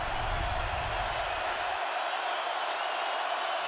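A stadium crowd at a Seahawks football game against the Chiefs roars loudly and continuously, a dense, steady wall of cheering.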